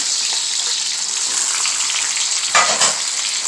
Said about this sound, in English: now I'm going to throw in the beef